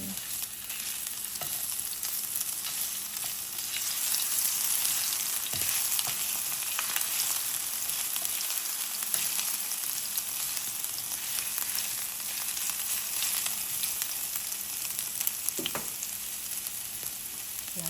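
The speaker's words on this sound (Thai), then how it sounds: "ผัดกระเทียม ให้ หอมก่อน นะจ้าผัดกระเทียม ให้ หอมก่อน" Garlic stir-fries in a hot pan with a steady, close sizzle and frying crackle lasting throughout, with occasional scrapes and knocks as it is stirred; no one speaks.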